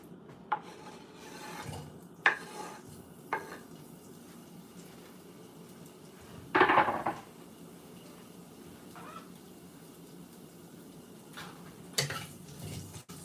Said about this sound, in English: You see these cumin seeds spluttering and making that good noise.